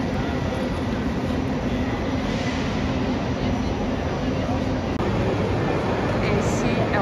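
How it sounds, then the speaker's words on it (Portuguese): A train sits at a station platform in Milan, with a steady, loud rail rumble and broad mechanical noise running without a break and no clear events. "Esse é o nosso trem."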